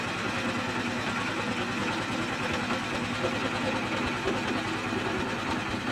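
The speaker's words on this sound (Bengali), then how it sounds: "পালকি নাই, শ্যালো মেশিন ভিড়িয়ে চলছে নৌকা জোরে জোরে।" A country boat on the Padma river is pushed along by a shallow-pump diesel engine, whose loud, steady drone thrums with rapid low pulses throughout.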